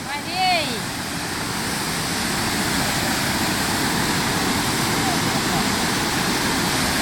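A big waterfall on the Bolaven Plateau in Laos roars as a steady, loud, broadband wash of falling water; a brief call rises over it near the start.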